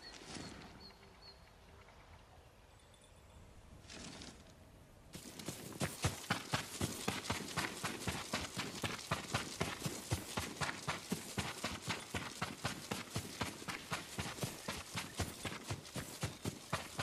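Horse hooves from the video game Ghost of Tsushima: after a quiet few seconds, a fast, even clip-clop of galloping starts and carries on loud and close to the end.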